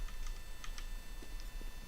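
Computer keyboard keys pressed during a Counter-Strike (CSGO) match, a few quick light clicks in a loose cluster heard close over a steady low game hum.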